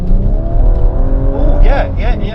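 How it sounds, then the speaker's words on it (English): A BMW M135i's six-cylinder engine accelerates hard, a loud, steady drone with rising and sweeping pitch and a brief squeal of tires near the end, with people talking over it from inside the car. "The 6-cylinder noise is just epic, isn't it?"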